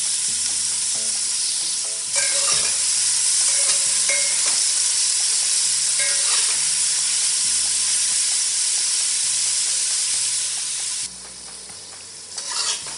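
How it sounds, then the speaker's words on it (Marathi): Chopped onions with salt sizzle and fry steadily in a pan, being stirred and tossed throughout, with a continuous loud hiss that eases slightly near the end; no talking. "कांदा आपण गुलाबी होईपर्यंत आपण याला परतून घेऊया."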